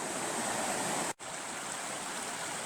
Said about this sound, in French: là où il y a la petite cascade là